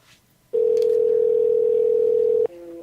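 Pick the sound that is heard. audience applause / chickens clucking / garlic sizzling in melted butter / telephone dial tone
telephone dial tone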